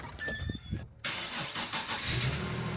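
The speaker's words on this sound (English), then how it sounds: "they're doing a first start right now on that G35 Coupe" An Infiniti G35 Coupe with a VHR engine swap fires up for the first time: a cranking burst, a brief gap, then the engine catches and settles into a rough, steady idle close by.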